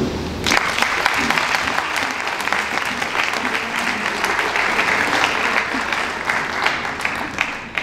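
An audience in a university amphitheatre applauds at an anniversary opening ceremony, with loud, dense and sustained clapping that begins suddenly and continues unbroken for nearly eight seconds.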